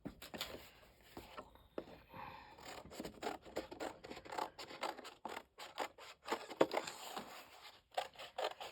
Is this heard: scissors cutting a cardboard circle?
yes